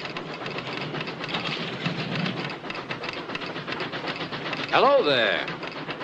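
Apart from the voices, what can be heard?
steam train arriving at the station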